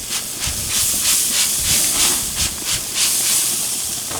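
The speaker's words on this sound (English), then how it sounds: "I'm gonna spritz them one more time" A spray bottle spritzes sauce onto bacon-wrapped duck on a grill, giving a series of short, sharp hissing bursts in an irregular rhythm, close and fairly loud with no talking.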